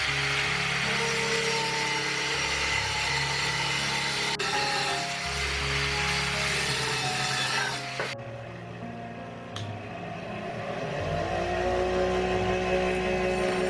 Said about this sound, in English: First, cut an M10 threaded roll to appropriate length.